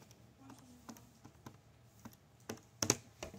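Tapping keys on a calculator while entering an expression, a run of light, close clicks spaced irregularly, with a sharper cluster of presses near the end.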